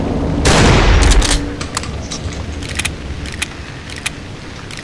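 Gunfire in the horror video game Cry of Fear: a loud burst of shots at the start, then scattered sharper cracks and clicks over a steady background rumble.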